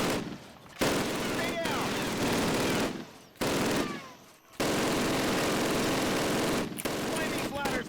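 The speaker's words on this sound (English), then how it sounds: "Sergeant, fire up those machine guns." Sustained machine gun fire on a Call of Duty basic training range, loud continuous bursts with brief pauses, a voice speaking briefly over it.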